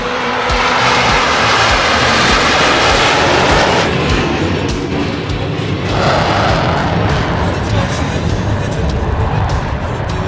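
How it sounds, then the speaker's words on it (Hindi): A JF-17 fighter jet makes a low-speed, high-alpha pass at the Pakistan Day parade in Islamabad, its engine a loud, continuous broadband roar that holds steady for the whole stretch with a brief dip midway. "The aircraft is now demonstrating high alpha pass."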